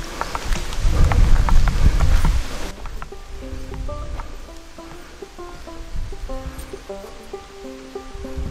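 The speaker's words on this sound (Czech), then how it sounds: "Začalo nám trochu pršet," Rain falling outdoors in the South Bohemian countryside, a steady hiss of drops with heavier rumbling patter at first, then lighter continuous rain while faint tonal birdlike chirps sound in the background.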